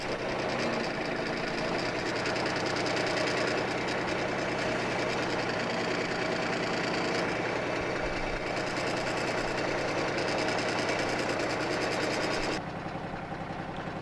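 A backhoe engine runs steadily at a constant drone while its functions are worked, a continuous mechanical rumble with a faint rhythmic knock, dropping off abruptly near the end.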